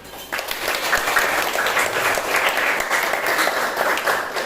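A classroom of students applauds continuously after the teacher calls for it, a dense, steady clapping that starts abruptly and carries on for several seconds.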